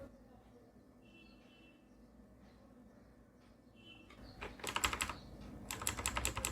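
Typing on a computer keyboard, Bengali text in typing software: quiet sparse clicks at first, then dense fast bursts of close key clatter in the second half.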